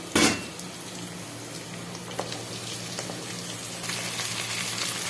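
Chayote sizzles in an oil-filled pan in a home kitchen, a steady close frying hiss with soft pops and scrapes throughout, no talking.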